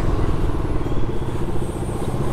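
A motorbike engine idles and putters up close while being parked at Ranchi airport, a steady low rumble with some rattling that holds loud throughout.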